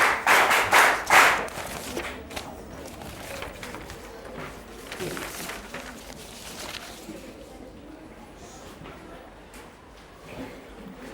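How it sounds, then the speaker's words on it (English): A Grade 7 class claps in a short rhythmic group pattern, several quick loud claps at the start, then fading into room noise and murmuring voices. "I'd like you all to give yourselves a worship clap."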